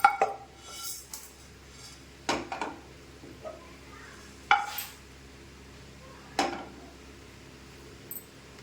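Roasted urad dal moved from one vessel to another, a handful of sharp metallic clatters and scrapes of a utensil against the pot spaced apart, faint and close with quiet pauses between, no talking.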